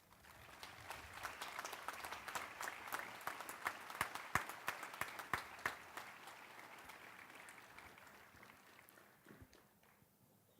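An audience at a 2014 commencement ceremony applauds to welcome the speaker to the podium. Steady clapping from many hands rises, holds for several seconds, then thins out and fades to near silence, moderately distant.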